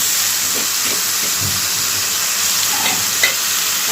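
Potatoes frying in a pan on a home kitchen stove: a steady, loud sizzle and hiss that holds constant throughout, with a few faint clinks of stirring underneath.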